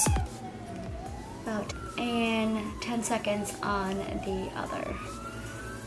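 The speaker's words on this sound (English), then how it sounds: "That's not police, that's a fire truck" A fire truck siren wails outside, rising and falling continuously in the background, steady and fairly loud, while a person keeps talking over it.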